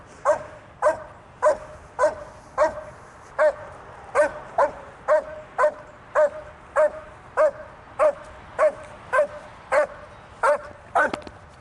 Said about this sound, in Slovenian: pes laja na človeka, ki je zakopovan v ruševini